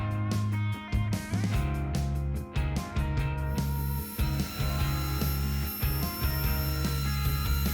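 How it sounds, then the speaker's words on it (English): Handheld shaper touching off a wood surface: a steady motor whine with a series of sharp, close clicks and brief dips in the first few seconds, then continuous running. "The next thing you do with the shaper is called a Z-touch."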